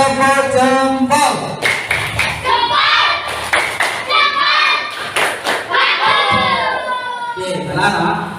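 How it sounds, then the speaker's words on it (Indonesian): Schoolchildren in a classroom chant in unison while doing a thumb-clapping routine, their high, sing-song voices loud and close and punctuated by sharp, rhythmic claps and thuds. "Kurang semangat, tepuk jempol."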